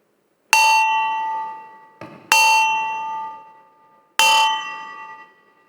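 A gong struck three times at an Eagles Club induction ceremony in Marinduque, each a bright ringing clang that decays slowly, with a softer knock between the first two strikes.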